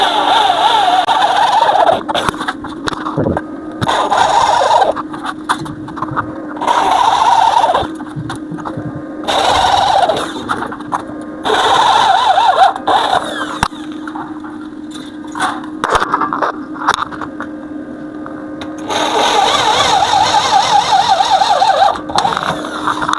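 A power drill with a 6.5 mm bit bores fixing holes for the container support on the wheel of an automatic pig feeder. It makes repeated whining bursts of a few seconds each, separated by brief pauses.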